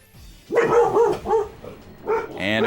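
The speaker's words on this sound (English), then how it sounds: "checking on a puppy" A puppy lets out a quick series of three or four sharp, high yapping barks up close, a short pause, then a final whiny yip.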